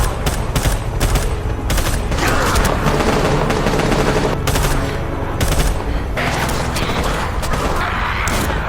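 Rapid bursts of gunfire crackle almost nonstop, loud and close, with brief gaps between volleys and a dense, chaotic texture.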